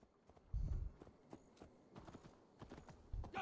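Horse hooves clip-clopping in the video game Assassin's Creed Valhalla, a few soft, uneven hoof thuds with a couple of heavier footfalls, faint and alone with no talk.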